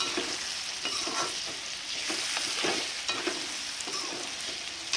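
Ginger garlic paste frying with pork in rendered fat, heard as a continuous, moderately quiet sizzle broken by soft, repeated scraping strokes of stirring.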